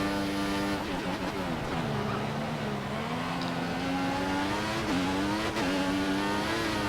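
A Formula 1 car in the F1 2014 racing game howls through a corner at the German Grand Prix, its loud engine note dipping and climbing with gear changes and oversteer, with a faint voice briefly audible.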